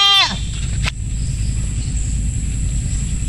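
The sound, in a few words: goats bleating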